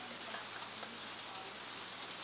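Steady, fairly quiet rain pours without a break, a dense even hiss with no voices over it.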